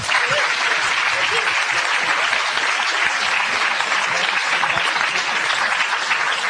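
Sustained audience applause for a panel at a Catholic discussion event on sexuality and intimacy, a steady field of many hands clapping at moderate loudness with faint voices mixed underneath.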